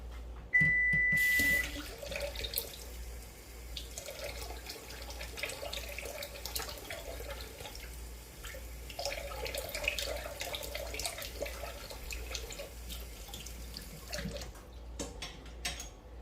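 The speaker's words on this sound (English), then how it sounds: "I'm going to put in 2 tablespoons of water." A small amount of water, about two tablespoons, poured into a liquid mixture for low carb blueberry bread pudding, a brief splashing trickle near the start followed by faint kitchen handling sounds.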